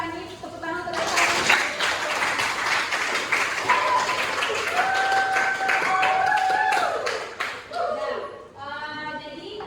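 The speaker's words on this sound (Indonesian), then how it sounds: "Tepuk tangan untuk Revani." A classroom of students clapping steadily for several seconds for a classmate, with voices and a few shouts mixed in, the applause trailing off near the end.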